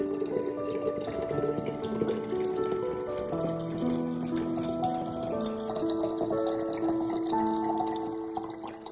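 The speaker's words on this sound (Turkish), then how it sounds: "Üzerine 2 litre su ekliyorum." Two litres of water poured into a mixture, a continuous gurgling, bubbling fill with rising tones, steady and close before fading slightly at the end.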